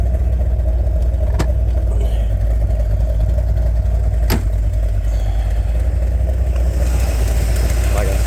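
A 1978 Chevrolet Corvette fitted with a Jags crate motor idles close by, a loud, steady, deep engine rumble that holds constant throughout with only a couple of faint clicks above it.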